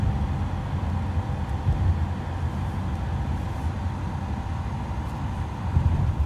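A steady low rumble of a car driving on the road, heard from inside the cabin, with constant engine and tyre drone and no talking.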